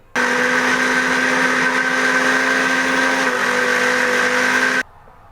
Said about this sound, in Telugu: అన్ని అన్నీ మిక్సీ జార్లో యాడ్ చేసుకొని దీన్ని ఇప్పుడు మిక్సీ పట్టుకుందాము